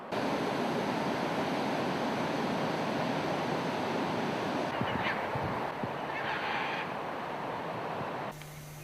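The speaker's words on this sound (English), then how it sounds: "This is just one of half a dozen waterfalls and rapids that have to be negotiated to get up and down the Rewa River in Guyana." Waterfall and rapids on the Rewa River in Guyana give a loud, steady, broadband roar of rushing water, continuous throughout with a few faint higher sounds over it before it cuts off near the end.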